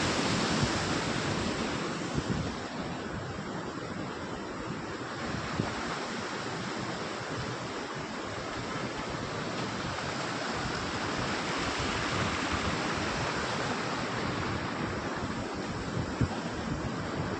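Steady rushing river water, swollen with rainwater, fills the whole stretch, a broad continuous roar with no pauses, close by and fairly loud, with a hint of wind.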